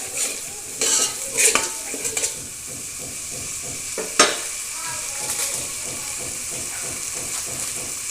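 Tomato paste masala frying in oil while being stirred, a steady close sizzle with a few sharp scrapes and clinks of the spoon against the pan.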